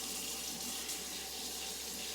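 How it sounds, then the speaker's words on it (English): Tap water runs steadily into a sink while someone shapes polymer putty under the stream, a continuous close hiss with no talking. "So I'm gonna try to like shape it under running water."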